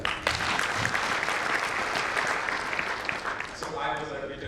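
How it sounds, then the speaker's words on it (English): Audience applause for a director at a talk on inclusivity, a dense, sustained wash of clapping from a room of people that holds steady for several seconds and begins to thin near the end. "A hand of applause for the director."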